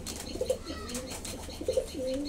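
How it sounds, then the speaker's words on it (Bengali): A Gizel pigeon coos at the Mirpur 1 bird market, soft low throaty coos repeated a few times, fairly faint amid light background noise. "এ আমার গিজেল কবুতর।"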